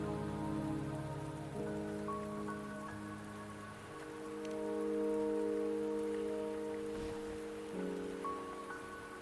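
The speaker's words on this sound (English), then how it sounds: "Don't worry, the rain won't last much longer." Steady rain patters continuously in the video game Wuthering Waves, a soft even hiss under sustained musical tones from the game's score, with no voices.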